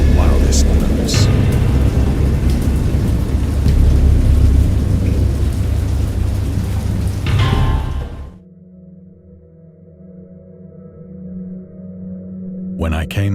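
A storm effect of steady heavy rain with deep rolling thunder for about eight seconds, which then falls away to a quieter, low, humming drone with a brief burst at the end.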